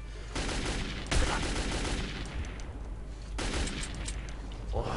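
Bursts of close, loud gunfire in Metro 2033, rapid shots firing in clusters with short gaps between them, no talking over them.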